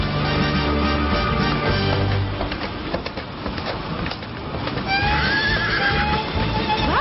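Horse neighing with clip-clop of hooves, layered over a steady musical backdrop; a whinny rises toward the end of the clip.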